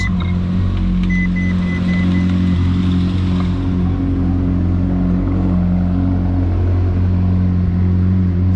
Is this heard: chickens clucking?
no